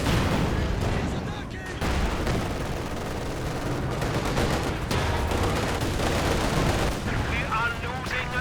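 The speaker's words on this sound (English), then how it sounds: "Incendiary barrage there, forced back the Panzer Grenadiers." An incendiary artillery barrage rains down in the WWII strategy game Company of Heroes 2, a dense, continuous roar of blasts and gunfire with a commentator talking over it.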